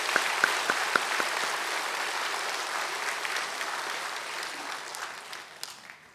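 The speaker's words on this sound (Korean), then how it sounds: "우리 한번 선생님들, 목자들 우리 한번 큰 박수로 한번 격려해 주실까요?" A church congregation claps warmly for its teachers and shepherds, a steady wash of applause from a large crowd that holds for several seconds and slowly thins out, with a few sharp claps near the start.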